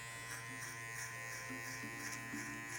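Hair clippers buzz steadily and close at low volume as they cut hair for a burst fade, a constant electric hum with slight changes in pitch as the blade moves through the hair.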